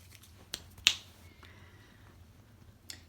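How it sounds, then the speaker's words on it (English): A single sharp finger snap rings out close and crisp in a quiet room, a lone click with a faint earlier tap and soft background hum. "I didn't mean to snap my fingers at you"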